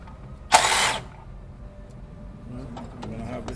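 A power tool gives a short half-second whir while removing valve cover bolts on a 2014 Nissan Rogue Select, followed by quieter shop noise and clicks.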